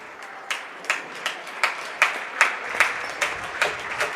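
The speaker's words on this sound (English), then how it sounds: "Big round of applause for everybody that participated." Sparse, slow hand claps from a small crowd after a junior high boys' basketball all-star game, about a dozen separate claps spaced roughly evenly, faint and a little distant.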